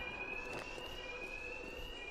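Alarm in Batman: Arkham Knight during a robbery, a steady high electronic tone ringing continuously at moderate level with faint background game noise.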